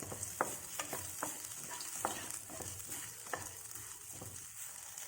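Masala for a ground chicken curry fries in a pan with a steady, fairly quiet sizzle. Occasional spoon scrapes and taps come through close by, and no one talks.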